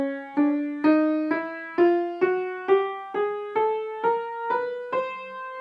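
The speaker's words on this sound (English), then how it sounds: "What you just heard there was a chromatic octave," Thirteen keyboard notes played one at a time, each rising a small step in pitch, evenly paced and clear with no talking.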